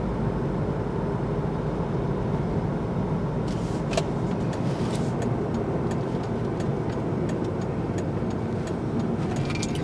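Night traffic at a light: steady broadband road rumble of cars slowing down, continuous and fairly loud, with scattered clicks and ticks in the second half.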